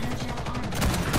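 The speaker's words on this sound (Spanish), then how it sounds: "Este es el juego de la escopeta, ¿eh? Unos tiros" Shotgun fire in the shooter game Ghost in the Shell: First Assault, a quick cluster of loud overlapping blasts with booming low end, swelling louder toward the end of the short burst.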